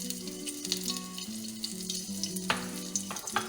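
Chopped garlic sizzles and fries in hot oil for chicken 65, a steady close crackle with occasional stirring, heard alone without talk.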